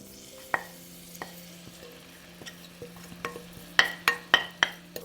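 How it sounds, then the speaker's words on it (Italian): Onion and sclopit sautéing in oil and butter give a low steady sizzle under a series of sharp spoon knocks and scrapes against the pan, growing busier and louder toward the end. "Dopo aver rosolato, aggiungo lo scrupit."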